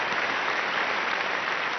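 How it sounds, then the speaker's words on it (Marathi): Loud, sustained applause from a television game show audience fills the moment, a dense wash of clapping cheering a pair of contestants who have just scored points. "जोरदार टाळ्या पाहिजेत या जोडीसाठी."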